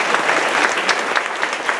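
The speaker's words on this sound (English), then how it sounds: "how about a round of applause, you guys?" An audience at a Puna lava flow community meeting claps steadily, a dense, even burst of applause from a crowd, with no voices over it.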